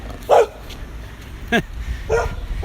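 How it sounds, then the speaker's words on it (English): A dog barks three times with pauses between, sharp single barks at moderate distance over faint outdoor background. "There, that's what's barking at me."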